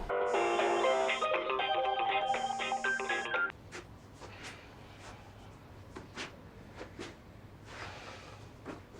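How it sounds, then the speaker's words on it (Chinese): A telephone call is dialed: a quick run of loud electronic keypad tones plays for a few seconds, then gives way to a quiet line with scattered soft clicks. "您给谢先生打个电话呀，飞总。"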